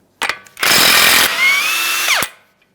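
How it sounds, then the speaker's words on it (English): A power tool whirs loudly and close as it spins off a 32mm axle nut on a Ford Fusion's front hub, a short trigger blip followed by a sustained buzzing run with a pitch shift before stopping. "we can remove our 32mm axle nut from this area"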